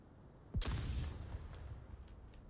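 A flashbang grenade detonates in a competitive video game match, one sharp loud bang followed by a fading rumbling tail, with quieter background ambience before and after.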